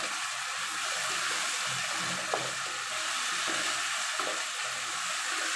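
Chopped carrot frying in a pan at home, with a continuous bright sizzle and occasional stirring scrapes, heard close and alone.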